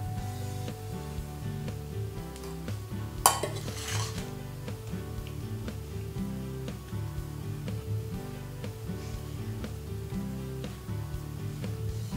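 Flour and semolina being mixed in a bowl, soft repeated scraping and stirring strokes with a few light clinks of utensil on the bowl and one sharper knock, close and steady with music playing underneath.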